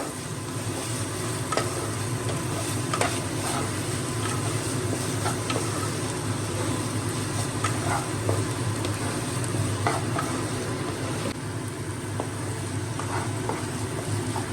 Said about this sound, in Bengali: এবার আমি এর মধ্যে সোয়া সস অ্যাড করছি। এবার এটাকে ভালো করে মিক্স করে নেব।